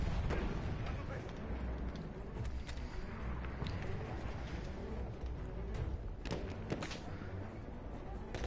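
Mortar fire in Battlefield 1: repeated booming launches and blasts in a dense, rumbling battlefield mix, with sharp thumps around the middle and end and voices talking throughout.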